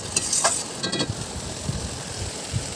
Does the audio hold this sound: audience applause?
no